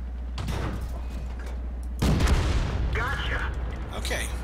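A tank cannon fires in the World of Tanks video game, one sharp boom followed by rumbling battle noise, heard alongside someone talking.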